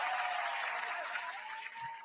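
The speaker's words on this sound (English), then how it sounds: "Round of applause." A round of applause from a studio or live-stream audience, a steady dense wash of clapping that holds at an even level throughout, with a faint tone running beneath it.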